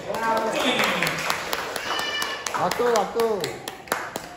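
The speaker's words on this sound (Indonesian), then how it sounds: "Tepuk tangan dulu dong." Crowd clapping at an Independence Day open-mic gathering, a continuous patter of hand claps with sharp individual hits, mixed with lively overlapping voices and cheering.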